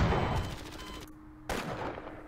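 A tank firing in Half-Life: a loud rapid mechanical burst with a steady tone, cutting off abruptly, then a sudden sharp blast followed by a fading rumble.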